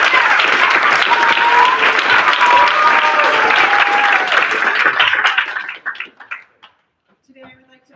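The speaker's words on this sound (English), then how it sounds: "I too would like to do a round of applause for the fourth grade class." A school end-of-year ceremony audience applauds a fourth grade class with loud sustained clapping and faint voices beneath, fading out near the end before a quiet tail.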